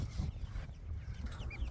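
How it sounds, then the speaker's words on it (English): A flock of chickens crowded into a chicken tractor clucks in soft, scattered calls over a low rumbling outdoor background. "there is a whole lot of birds in that chicken tractor"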